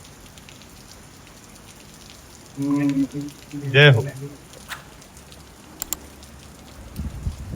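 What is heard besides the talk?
rain falling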